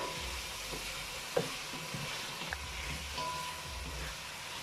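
Saltfish sizzling and frying in a pan for Jamaican ackee and saltfish, a steady close crackle with a few stirring knocks, no talk.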